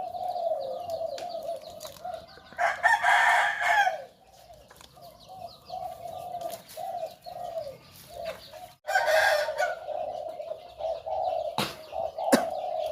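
A decoy rooster crows in the early morning, with repeated loud crowing calls standing out over steady background bird chatter and clucking from other fowl nearby.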